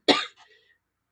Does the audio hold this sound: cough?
yes